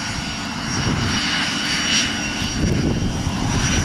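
A small airplane takes off from the runway at Aurora Municipal Airport, its steady engine roar loud and continuous, swelling slightly as it passes.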